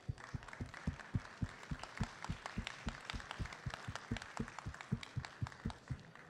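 Sparse, fairly faint clapping from a small audience at a radio trade show speech honoring a colleague, individual claps in an irregular, uneven rhythm.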